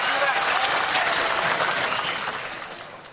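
Audience applause at an inauguration of Golkar party regional officials, dense clapping from a large crowd that is loud at first and gradually fades toward the end.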